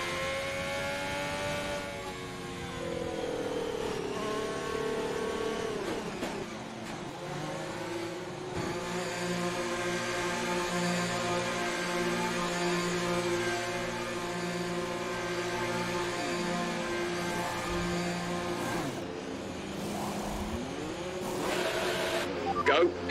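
Race car engines drone through a safety car period at the French Grand Prix in an F1 game, with harmonic revs rising and falling, gear changes and a radio voice talking over them.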